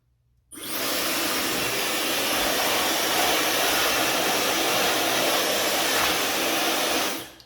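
A Dyson Supersonic hair dryer switches on and runs with a steady, loud, breathy whoosh for several seconds, then cuts off near the end.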